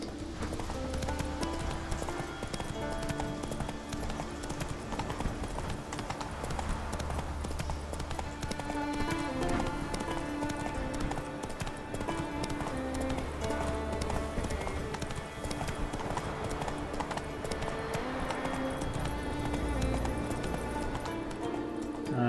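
Horse Roach's hooves clip-clop at a steady trot in The Witcher 3, a continuous rhythmic plodding set under a dense bed of game music and ambience.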